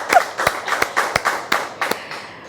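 A small audience claps for a singer, about eight distinct, fairly sparse claps in a loose rhythm, close and moderately loud, fading toward the end.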